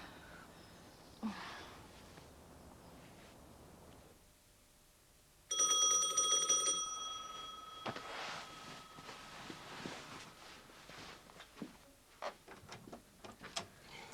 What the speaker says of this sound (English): Just a bit weird you ringing your own doorbell.